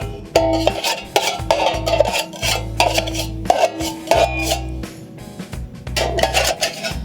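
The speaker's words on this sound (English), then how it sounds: "Scraping the bottom and coming up the sides." A blade scrapes around the bottom and up the sides of a drywall mud bucket during cleanup, giving repeated loud rasping strokes with metallic clinks, close and continuous with no talking.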